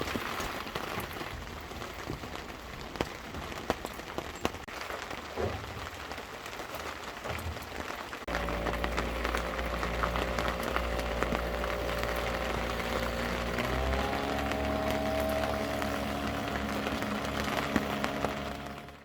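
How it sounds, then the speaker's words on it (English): Steady broadband hiss of heavy rain pouring down, constant throughout, with a low engine-like hum joining partway through. "it's raining heavily outside"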